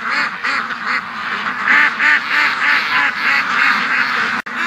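A flock of ducks quacks steadily outdoors in the morning, many calls overlapping in a rhythmic, close and loud chorus without pause.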